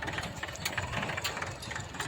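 Tractor engine on a farm road, a low steady rumbling chug with a faint knocking pulse, moderately distant and continuous throughout.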